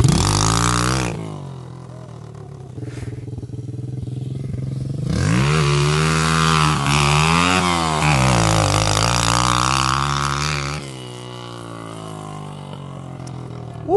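A 124.5cc pit bike engine revs hard and loud, climbing and holding a high-pitched scream for several seconds, then dropping back to a rough idle.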